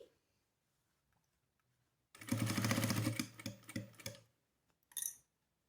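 A sewing machine stitches the straight section of a fabric phone bag, running in a fast, steady burst for about two seconds, then a few shorter bursts and clicks, close up in a quiet room.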